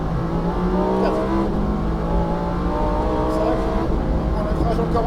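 A Lamborghini STO accelerates at full throttle around a race circuit, its engine a steady, loud roar with rising harmonic whine from inside the car, while an instructor's voice talks over it.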